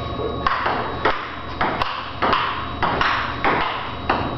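Ping pong ball struck back and forth in an even rally, each hit a sharp nearby tap, about eight in a row with no voices.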